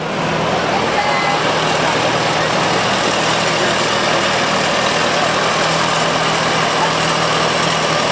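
A 1955 Case Model 400 tractor engine runs at a steady idle during a county fair parade, a constant mid-pitched rumble that holds evenly the whole time.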